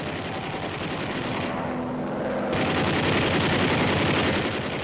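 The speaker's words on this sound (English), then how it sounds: "The waste guns use 50 caliber incendiaries to start fires." B-24 waste guns firing 50 caliber incendiary rounds in continuous dense bursts, loud and sustained.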